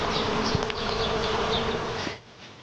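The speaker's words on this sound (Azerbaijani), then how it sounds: "Ağac çiçək açıb, arılar isə ilk ballarını yığırlar." Honey bees gathering their first nectar buzz around a tree in spring bloom, a steady close hum of many insects that drops away sharply near the end.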